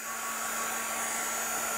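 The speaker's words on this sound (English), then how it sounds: "I'll dry it, and I can dry it if I can dry it with a hairdryer" Hairdryer blowing steadily at close range while drying craft work, a constant whooshing hum with a faint electric whine, alone with no talk.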